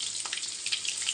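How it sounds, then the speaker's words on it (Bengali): Potatoes seasoned with salt and turmeric fry in a pan with a steady, close sizzling hiss that crackles on without a break, and no voices are heard. "আলুটা ভেজে নেব।"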